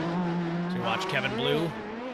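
A sports prototype race car works through turns 7 and 8 at Sebring, its engine note rising and dropping through the corners with tire squeal, under a commentator's talk.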